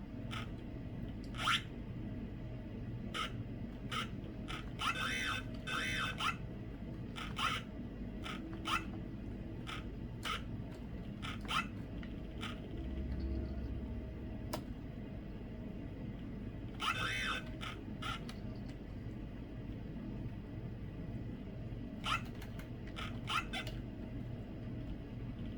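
A Packard Bell Statesman laptop's PC speaker clicks while a keyboard key is held down. Faint, rapid clicks come in short bursts separated by quiet gaps.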